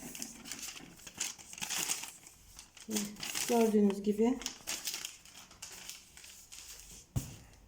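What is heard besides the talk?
crinkling plastic packaging of a parcel being opened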